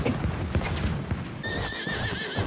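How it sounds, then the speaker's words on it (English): A horse whinnies with a rising, wavering neigh over steady hoofbeats and a dense game background bed in Battlefield 1's Sinai Desert map, short and fairly loud. "I got killed by a horse."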